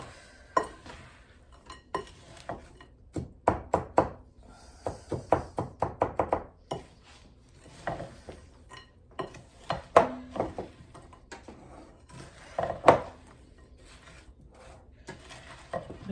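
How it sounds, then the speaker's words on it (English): Almonds being stirred in a bowl with egg whites and cinnamon sugar, a spoon clinking and scraping against the bowl in irregular knocks and rubs, fairly quiet and close, with no talking. "Make sure you get them nice and mixed, because those almonds on the bottom are going to have a lot of the egg whites on them"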